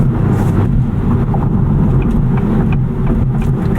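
2023 Acura Integra Type S engine under throttle in a sporty drive mode: a loud, close, steady low engine roar held for a few seconds without pause.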